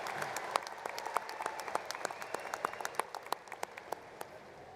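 A commencement audience at a Washington State University spring 2016 morning ceremony applauds steadily, with dense, even clapping from a large crowd that tapers off toward the end.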